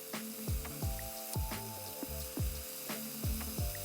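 Steak sears over high heat in a hot pan, giving a steady loud sizzle and crackle with repeated sharp pops and spits at an even, almost rhythmic pace throughout.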